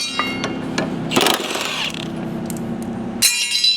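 Metallic clicks, ratcheting and scraping from hand tools as the blades are taken off an electric lawnmower, a series of short close knocks and a longer grinding stretch, with a bright rattle near the end.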